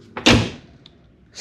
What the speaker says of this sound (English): Just listen to the sound of the door closing.